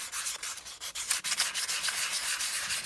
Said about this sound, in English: I'm just going to take my sandpaper. This is 150 grit, I believe.